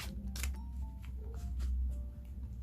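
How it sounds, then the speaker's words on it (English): Tarot cards are shuffled by hand in a quiet room, faint soft riffles and slaps of card stock in uneven bursts, close and alone with no talking. "I'll just shuffle the cards."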